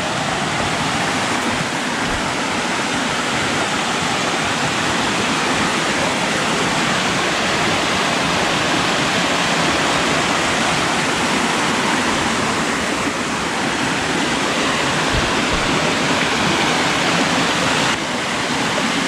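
Steady, loud roar of Comey Creek Falls, broadband rushing water filling the whole clip with no pauses or voices.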